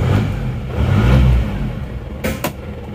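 An Isuzu Panther engine, just repaired, runs with a steady low rumble that swells into a rev, followed by a couple of sharp mechanical bursts near the end, heard close up with no talking.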